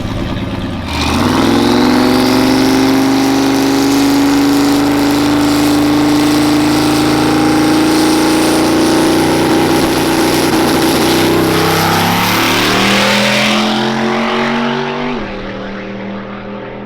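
A Corvette at an LS Fest drag strip in Las Vegas launches hard, its engine revving loud and close as it pulls away in one sustained rising roar that fades near the end.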